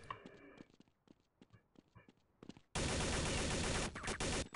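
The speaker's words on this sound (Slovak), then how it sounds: "Strieľa sa tam." Rapid automatic gunfire in Counter-Strike: Condition Zero on the Havana map, a dense, loud burst arriving after a quieter stretch of scattered clicks and footsteps, sustained for nearly two seconds.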